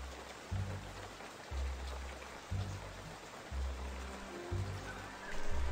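Steady rain falls in the video game Kynseed, a continuous hiss that runs throughout, with a low repeating game music pulse underneath and no talking.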